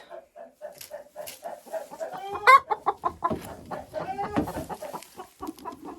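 Hens cluck repeatedly and close by in an unheated henhouse in a busy, uneven chatter, with one louder squawk partway through.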